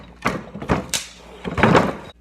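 A tractor engine block from a Massey 231 being rebuilt is shoved across a surface, giving a few heavy scraping and clunking bursts close by, with a brief metallic knock in the middle.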